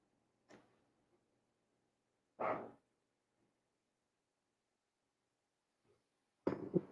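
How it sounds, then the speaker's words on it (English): A few distant dog barks, spaced seconds apart in otherwise quiet surroundings, faint and sharp with the last one slightly louder. "I hear a dog I don't recognize."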